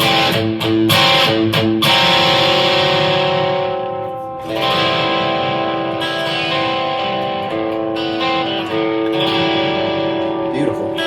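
Electric guitar played through a Donner Dark Horizon distortion pedal, sustained chords ringing with heavy, saturated distortion and a few sharp strummed attacks, loud and continuous with no talk over it.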